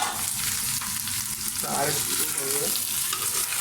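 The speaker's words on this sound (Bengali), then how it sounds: "এখন আমরা ঢাকনা খুলে দেখবো আমাদের মাংস ভাজাটা কেমন হয়েছে।" Chicken pieces fry in a pan with a loud, continuous sizzle and crackle, close up, with stirring scrapes and a brief spoken word.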